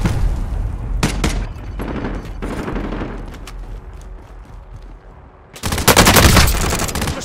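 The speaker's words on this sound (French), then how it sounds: "Je subis des tirs. Il me cible." Enemy gunfire in Call of Duty: Modern Warfare, scattered bursts of shots and booms that build into a dense, loud barrage near the end.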